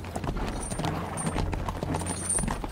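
Hooves of a horse-drawn carriage clip-clop in a steady rhythm at moderate distance, with a low rumbling background running throughout.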